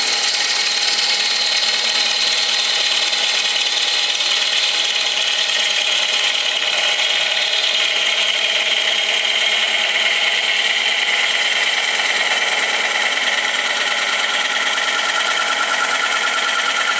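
A steady, continuous scraping hiss of a woodturning tool cutting a thin wooden piece on a lathe, loud and close, with a sustained pitched whine running underneath.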